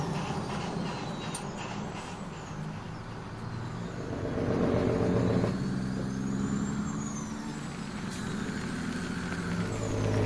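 A heavy farm vehicle engine in Farming Simulator 2017 drones continuously, swelling louder midway, with faint whining tones and a brief hiss over the steady rumble.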